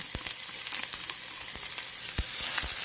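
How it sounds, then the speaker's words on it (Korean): Onion fries in olive oil with garlic in a pan for tomato pasta, a loud steady sizzle with scattered sharp pops and stirring clicks, close up and growing slightly louder at the end, no talk. "양파를 넣겠습니다."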